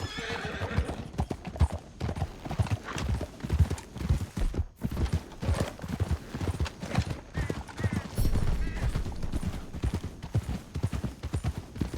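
Horse hooves gallop rapidly and continuously in the video game Red Dead Redemption 2, with a horse whinnying partway through; a busy, loud chase with no clear talk.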